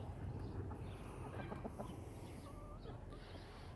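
Chickens of a mixed backyard flock cluck in short, overlapping calls over a noisy, rumbling background, with a few sharper bursts near the middle, fairly close and moderately loud.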